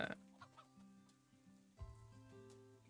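Cartoonish chickens cluck in short bursts in the farming game Big Farm Story, layered over a quiet looping tonal game melody.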